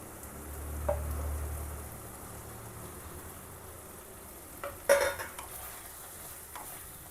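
Cut capsicum cooking in a simmering gravy for a baby corn pepper fry, a low bubbling sizzle with a faint stirring clink and a brief scrape of a spoon against the pan.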